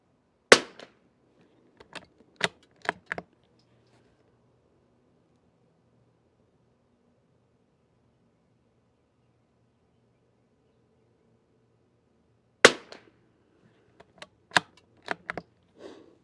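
Sharp rifle shots from a CZ rifle firing SK semi-auto ammunition crack out one at a time in two clusters, about five shots each, separated by a long quiet gap.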